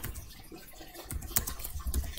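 Keys clatter on a computer keyboard as commands are entered in an Ubuntu 20.04 terminal inside VirtualBox, a quiet run of soft, irregular clicks and taps at close range with no voice over them.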